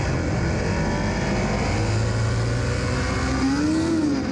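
A motorcycle engine roars steadily at a race start at Daytona, loud and close, with the pitch rising near the end as it revs.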